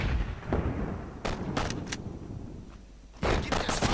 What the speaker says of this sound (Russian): Куда это стреляют?